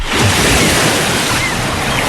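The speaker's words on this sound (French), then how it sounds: "Vous l'entendez, le chuchotement des vagues que l'on avait presque oublié ?" Ocean surf washes ashore in a steady, loud, broadband wash of breaking waves with no voices over it.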